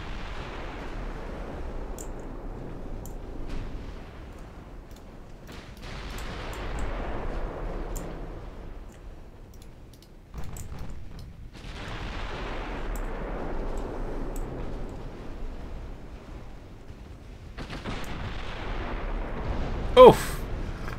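Naval guns in a ship-combat video game fire into a smoke screen: several heavy, booming shots, each trailing off in a long rumble, with a sharp crack near the end.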